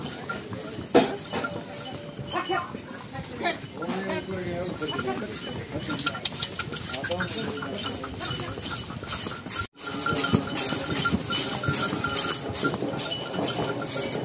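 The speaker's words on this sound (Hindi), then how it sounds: "घोड़े की सवारी हो रही है भाई" Horse hooves clip-clop during a horse ride up a mountain pilgrimage path to Vaishno Devi in Jammu and Kashmir, the rhythmic steps close but partly masked by steady wind noise while someone talks throughout.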